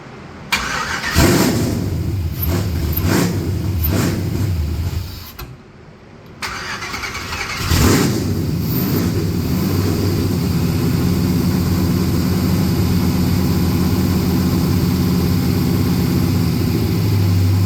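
A Camaro's cammed 6.0 LS V8 engine, reportedly blown, runs close by at a steady rumble, briefly dropping out midway before picking back up and holding a loud, even idle.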